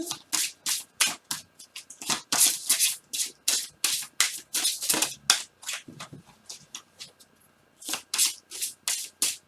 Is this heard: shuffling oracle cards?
yes